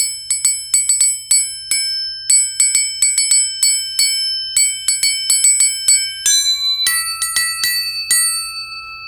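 Struck metal percussion discs ring out in a live contemporary percussion performance, bright bell-like tones in quick irregular clusters and single hits, each strike decaying with a long shimmering ring, loud and close with no voices.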